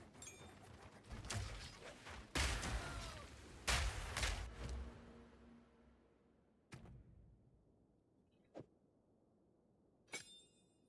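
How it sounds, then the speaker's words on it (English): A mortar cannon skill fires in the action game Path of Exile 2, a series of sharp launches and crackling blasts with fading tails. Later thuds are sparser and quieter and sit over faint game ambience. "Okay, so I should be able to now do mortar cannon."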